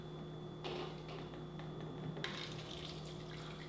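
Kangen water poured into a glass holding a green tea bag gives a steady trickling rush over a constant machine hum, swelling more fully partway through.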